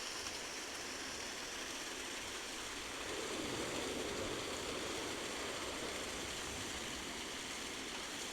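Small waterfalls spilling onto a Cornish beach during a storm, a steady broadband rushing of falling water that swells slightly partway through, constant and fairly distant, with no voices.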